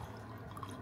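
Water from a home dispenser runs steadily into a cup held beneath the spout, a soft continuous trickle heard close up with no talking.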